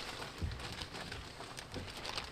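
Light rain patters steadily on a surface nearby, a soft continuous hiss with scattered drops and a few low thumps.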